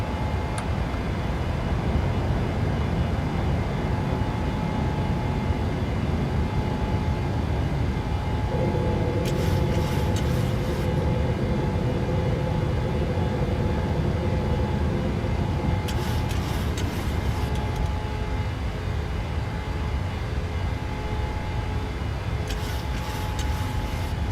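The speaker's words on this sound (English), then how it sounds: "V1 rotate. Positive rate of climb. Gear up." Boeing 737-800 jet engines at takeoff thrust in Microsoft Flight Simulator, a steady loud roar and rumble with an even tone held throughout, and a few brief higher hissing bursts along the way.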